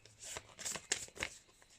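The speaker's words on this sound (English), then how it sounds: "I'll give these a wee shuffle." Tarot cards shuffled by hand, a short close run of soft riffling and slapping bursts lasting under two seconds.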